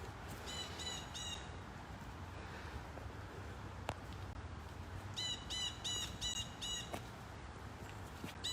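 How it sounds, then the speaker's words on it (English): Birds on Moses' Mountain give repeated harsh, squawking calls in two clusters, outdoors among a soft background hiss, moderately distant. "on any given day, you can hear lots of bird call up here"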